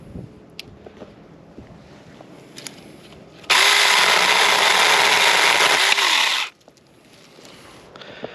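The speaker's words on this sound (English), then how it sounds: "especially a one-handed chainsaw like this" A small one-handed Saker mini chainsaw roars loudly for about three seconds as it cuts wood, then drops back to a quiet idle, with faint clicks before and after.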